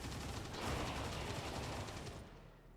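Faint, distant gunfire from a squad in XCOM Long War of the Chosen, a dense rattling burst that keeps going for a couple of seconds and then trails off.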